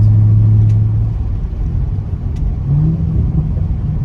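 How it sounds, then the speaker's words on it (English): A tuned C7 Corvette's exhaust burbles on a downshift, heard from inside the car: a loud low rumble with soft crackling pops and engine tones rising and falling. "Nice little burble. Yeah, see? Nice little subtle burbles."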